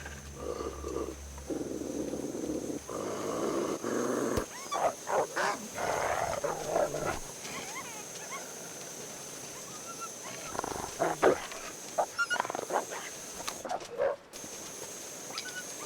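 Wolf howling in the survival game The Long Dark, a drawn-out wavering howl in the opening seconds followed by scattered clicks, crunches and short game sounds over a faint steady background tone; no speech.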